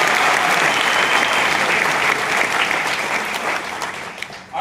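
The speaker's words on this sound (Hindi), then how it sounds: "पवन जी के लिए एक जोरदार तालियां" A room of trainees at a Pune training session gives a loud, sustained round of applause for Pawan Malik, dense continuous clapping that holds steady for several seconds before tapering slightly at the end.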